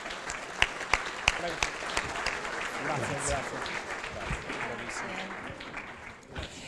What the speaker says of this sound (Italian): l'applauso vi accompagna ai vostri tavoli nuovamente